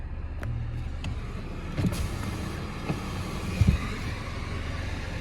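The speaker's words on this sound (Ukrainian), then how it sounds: "Склопідйомники працюють" Skoda Octavia electric power windows whir inside the car, with faint motor hums and a few soft clicks and thumps at moderate level, no voices.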